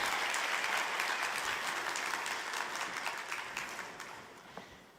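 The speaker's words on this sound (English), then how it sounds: "give them a round of applause." A room full of seminar attendees claps steadily as a team walks out, the dense applause slowly thinning and fading over five seconds.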